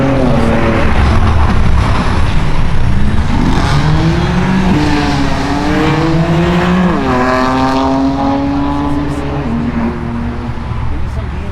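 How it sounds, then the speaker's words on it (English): A BMW at a car show revs hard while sliding, with rising and falling engine pitch and rumbling exhaust, loud and continuous with crowd noise and voices underneath. "Maybe some BMW sliding action."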